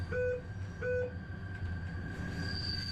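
A train rolls along rails with a steady low rumble, sustained metallic whining tones, and two brief higher squeals near the start. It is fairly close and continuous, with no talking.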